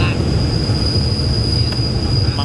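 Ordinary train 277 from Bangkok to Kabin Buri rolls along near Khlong Bang Phra, a loud, continuous low rumble with a steady high whine.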